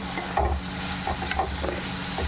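Eggs are stirred and fried in a pan at home: a soft sizzle under repeated scraping and clinking strokes of a spatula, close and moderate, no talking.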